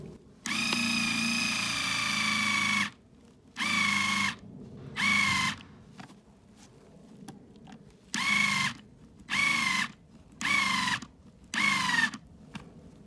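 A power drill bores holes through a lightweight wooden flower pot, its harmonic whine running in one long burst followed by several shorter on-off bursts, close and loud with no talk.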